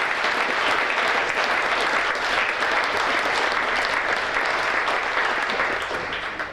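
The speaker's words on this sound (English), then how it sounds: "give them a round of applause" A gala audience applauding at a chamber of commerce awards evening, dense sustained clapping from a large crowd, loud and even throughout before easing slightly at the end.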